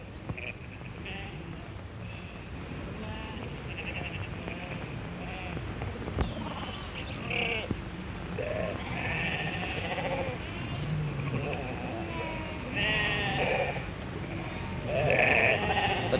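A flock of sheep bleats continuously, many overlapping calls near and far, with a steady hiss of background noise.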